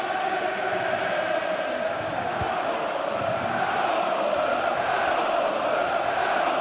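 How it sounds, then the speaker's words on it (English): Stadium crowd in a Premier League football video game, a loud continuous roar of cheering and chanting that swells slightly, steady throughout with no clear pauses. "I know it's a computer game, but it's a bit intimidating, that crowd."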